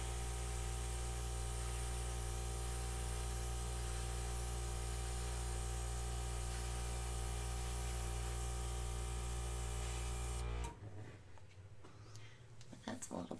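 An airbrush sprays acrylic paint as a close, steady hiss lasting about ten seconds, then cuts off abruptly into quieter room sound.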